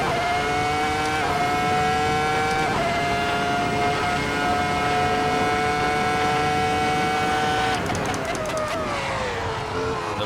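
A V10 Formula 1 race car engine in a racing video game, a loud, high-pitched sustained whine that shifts pitch through gear changes and ends with a downshifting burble.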